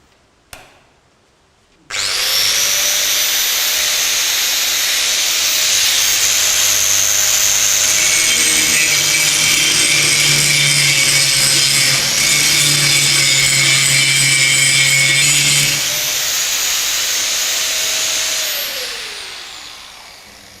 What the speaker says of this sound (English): we will try to remove this welded joints with help of our GWS 800 and of course, Bosch grinding wheel